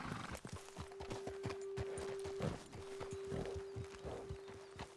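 Horses walking in Red Dead Redemption 2, a steady clip-clop of hooves on a road, quiet and moderately close, with a constant tonal hum underneath.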